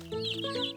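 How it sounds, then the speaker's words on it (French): A cartoon chicken clucks on a farm in a Miffy episode, a brief close, bright cackling call lasting under a second, heard on its own. "Allons voir si les poules ont pondu."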